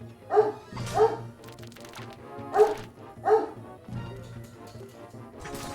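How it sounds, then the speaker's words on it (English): A dog barks in a game, Suikoden III, with a handful of short, fairly loud yips and woofs spaced unevenly across the moment over a low background hum. "Lisa, the dog is barking."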